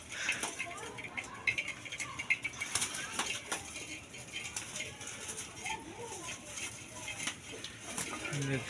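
Pigeons on a small farm flutter and flap their wings in bursts with occasional soft coos, close by, while a person talks over them.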